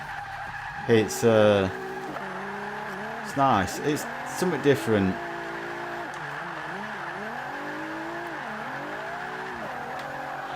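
Nissan GTR R35 Black Edition in Forza 5 on an all-wheel-drive drift build, with several bursts of tire squeal over a steady engine drone while someone talks throughout.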